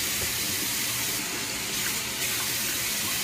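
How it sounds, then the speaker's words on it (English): Shishito peppers are rinsed by hand under a running kitchen tap, giving a steady, close rush of water with faint shifting splashes as the peppers are turned. "I'm actually just gonna like rinse them with my hands, just like that, under the water"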